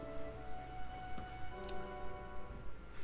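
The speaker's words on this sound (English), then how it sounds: "The rain is really coming down now." Steady heavy rain pattering on a surface in a video game, a constant dense wash with a faint tonal hum underneath.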